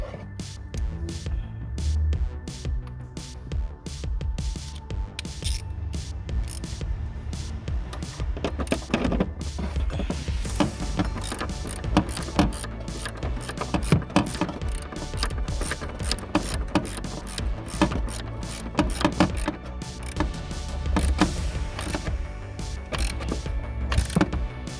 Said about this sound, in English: And then I can use the ratchet afterwards.